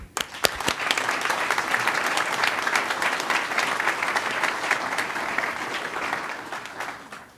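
An audience at the San Pedro 1 grand opening ceremony breaks into loud, sustained applause as a speaker is welcomed to the podium, dense clapping holding steady for several seconds before tapering off near the end.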